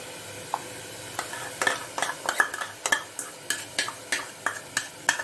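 Ginger-garlic paste and tomato paste are stirred in a hot pan, a spatula scraping and tapping the metal in a brisk, fairly regular rhythm of about a dozen strokes over a light, close sizzle.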